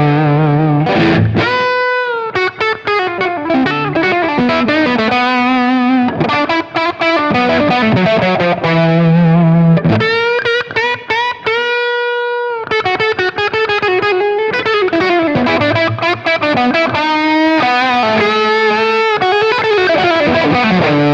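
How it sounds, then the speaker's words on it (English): A Line 6 JTV-59 Variax guitar on a Les Paul patch through a plexi-style amp tone plays loud, crunchy distorted riffs and chords continuously, with brief sustained notes and short pauses between phrases. "And then we have a Les Paul with a plexi sound."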